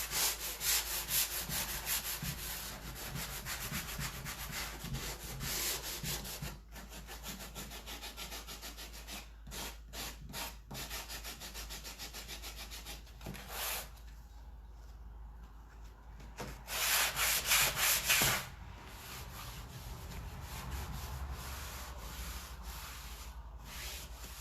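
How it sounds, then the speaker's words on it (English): Close, steady sanding rasps across the painted corners of a wooden piece to distress them. The rubbing strokes come in long, continuous runs with brief pauses between them, and no voice is heard. "I like having a little bit of distressing around the corners."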